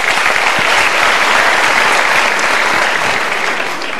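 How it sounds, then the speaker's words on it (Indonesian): A large seminar audience gives a round of applause, a loud, dense and continuous roar of clapping that stays level throughout and tapers slightly at the end. "Berikan tepuk tangan dulu."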